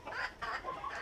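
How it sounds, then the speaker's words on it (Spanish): Small bantam hens in a farm pen give a few soft, short clucks, faint and close, with no talk over them. "Estas gallinas enanas,"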